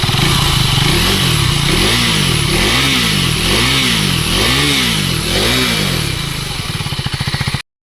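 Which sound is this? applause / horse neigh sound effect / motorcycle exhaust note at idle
motorcycle exhaust note at idle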